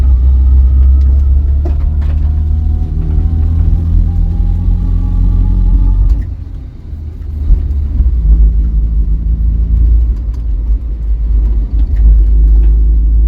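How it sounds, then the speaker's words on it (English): Vauxhall Viva engine running while driving, its carburettor running slightly rich, with a loud steady low rumble from inside the car and a gear shift dip around the middle before the drone resumes. "I think I've got to run a little bit rich again, and the idle's a little bit high, but it's shifting better"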